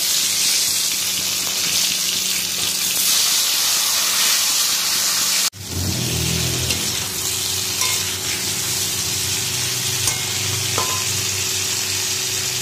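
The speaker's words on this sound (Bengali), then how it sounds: "আর কড়াইতে এগুলো ভাজা হচ্ছে" Steady loud sizzling of potatoes frying in a wok, a continuous bright hiss with a brief break midway, then more crackling and bubbling.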